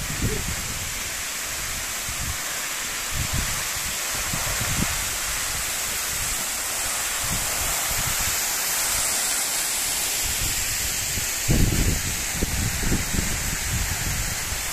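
A waterfall pours down beside a road where cars pass behind the falling water, making a steady, close broadband roar throughout, with occasional low thumps mixed in.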